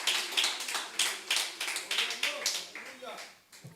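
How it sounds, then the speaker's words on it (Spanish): A church congregation applauds the Lord in rhythmic unison, a run of evenly spaced group claps that are moderately loud at first and then thin out and fade near the end. "Puede darle un aplauso al Señor con todo su corazón."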